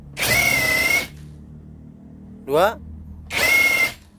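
A Kyoal KY6065 65 Nm power drill, first generation, runs at speed 2 in two loud, close whirring bursts of about a second each, with a brief spoken word in the gap between them.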